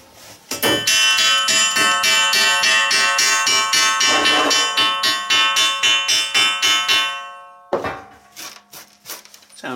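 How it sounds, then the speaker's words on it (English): A metal bell clangs like a train bell in a rapid, loud run of ringing strikes whose tones linger and overlap. A brief pause follows, then a few scattered, softer strikes close out the sequence. "Sound like a train bell."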